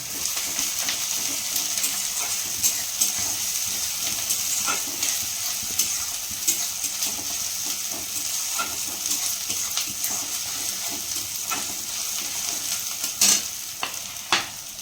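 Close, steady sizzling of onions frying in oil with ginger and garlic, broken by frequent scrapes and clinks of a spatula stirring against the pan.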